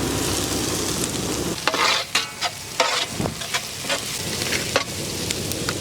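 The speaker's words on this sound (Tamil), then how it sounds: "வெங்காயம் குடமிளகாய் சூப்பரா வதங்கிடுச்சு" Onion and bell pepper sizzle in a hot pan while a utensil stirs and scrapes, giving sharp irregular clacks over a constant frying hiss.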